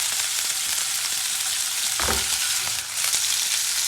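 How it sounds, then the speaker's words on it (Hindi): Chicken fries in a pan for a grilled club sandwich, giving a loud, continuous sizzle throughout, broken by a couple of brief stirring scrapes near the middle. "चिकन हमने तड़क लिया, भून लिया"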